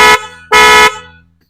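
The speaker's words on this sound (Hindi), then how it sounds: "हारन इसको रूटीन में सीगर वाले ही इंस्टॉल कर दिए गए" Seeger horn fitted to a Honda 125 motorcycle sounding two loud, blaring honks, the first short and the second longer, its ring fading away after the last blast.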